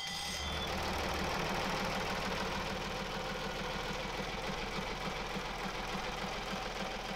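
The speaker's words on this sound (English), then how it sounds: "Small puffs of white smoke quickly dispersed as the engine warmed up." A Bukh DV48 marine diesel in a lifeboat conversion idles steadily after a few years of storage, warming up with a continuous, even, close-up chugging rumble and no voices.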